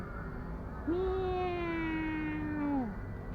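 A single drawn-out cat meow in Lumpini Park, Bangkok, rising then holding steady for about two seconds before falling off, loud and close over a steady outdoor background hum.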